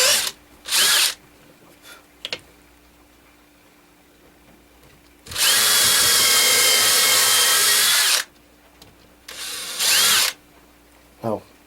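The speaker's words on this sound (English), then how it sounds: "I'm going to run this pilot hole down through there" A cordless drill drives a 1/8-inch pilot bit into wood in several bursts, one long steady whine in the middle and shorter pulses around it, close and loud, with quiet gaps between.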